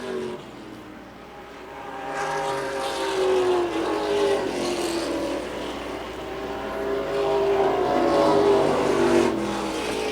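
Race cars at a short-track event pushing through lap traffic, engines droning and rising in pitch as several cars pass in steady succession, loud and fairly close with no voices.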